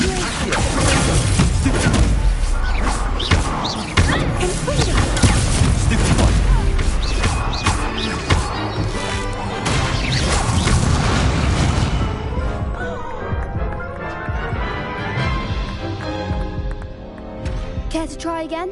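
Incendio fire spell cast repeatedly in the Hogwarts Legacy video game, loud whooshing bursts and booming impacts layered over dense game music and effects, with a voice talking throughout.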